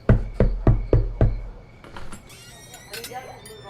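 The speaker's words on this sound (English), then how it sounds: "he knocked on Ruthie's door" Five sharp knocks on a residential door in quick, even succession, loud and close, followed by a quieter stretch of room sound.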